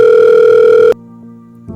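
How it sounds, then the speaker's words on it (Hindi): A telephone call ringing tone, a steady loud tone lasting most of the clip that cuts off abruptly, followed by a quieter line hum and a faint click near the end. "उस दिन पापा ने मुझे मुंबई फोन किया।"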